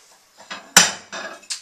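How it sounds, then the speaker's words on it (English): Soiled dishes being loaded into an Electrolux ESL 6225 dishwasher, heard as a few close, sharp clinks and clatters of crockery against the rack, one louder knock in the middle, no talk. "Let's fill the dishwasher with some soiled dishes."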